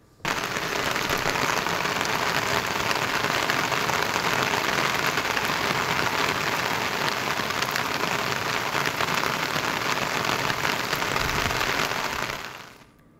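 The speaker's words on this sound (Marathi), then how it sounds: "रायगड जिल्ह्यात पावसाची संततधार 4 दिवस झाले सुरूच राहिलेली आहे।" Heavy, continuous monsoon rain in Raigad district, after four days of nonstop downpour, hisses steadily and densely on surfaces for the whole stretch before cutting off abruptly at the end.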